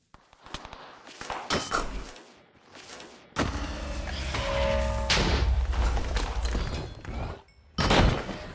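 Booming explosions in the Monumenta video game, a few sharp blasts followed by a long rumbling roar and another burst near the end, loud and close with no talking.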